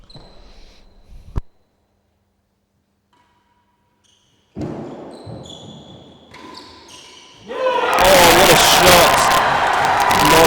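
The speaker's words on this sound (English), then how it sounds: "Energy, crowd's going wild." Spectators at a real tennis world championship match break into loud, sustained cheering and applause near the end, after crisp ball strikes, a sharp thud and a stretch of near silence.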